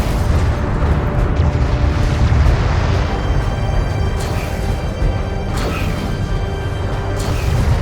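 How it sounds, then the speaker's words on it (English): Turret under enemy attack in the strategy game Homeworld: Deserts of Kharak, a dense, continuous rumble of booms and impacts with sharper bursts around the middle, loud and unbroken throughout with no talk. "One of our turrets is taking fire."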